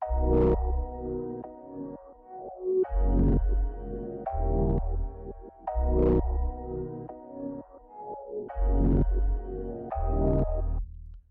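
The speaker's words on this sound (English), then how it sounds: "I took the piano loop once again, duplicated it here, and then I kind of just chopped it." Piano chords repeat in a chopped loop, each phrase starting with a bright accent over a deep bass note, falling into a steady cycle with brief gaps.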